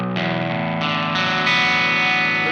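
Electric guitar played through a Thorpy FX Electric Lightning overdrive pedal, a dense distorted chord strummed and sustained with a few restrikes, loud, bright and alone without talk.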